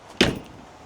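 A single short jangle of keys in the door of an RV, close and brief, followed by quiet background.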